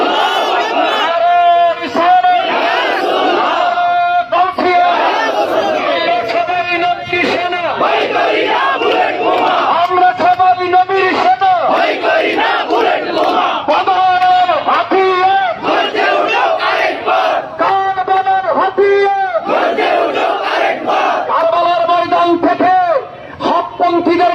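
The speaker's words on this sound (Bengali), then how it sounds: "আমরা সবাই নারা করি, নারে তাকবীর" A large protest crowd in front of the Chittagong Press Club chants the Nara-e-Takbir slogan in loud, rhythmic call-and-response bursts that repeat over and over, with a leader's amplified voice prompting between shouts.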